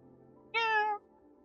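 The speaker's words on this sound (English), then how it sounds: "And then this adorable cat meow right at the end." A single short cat meow from the Stray video game trailer, a clear tonal cry lasting about half a second, alone over a quiet background.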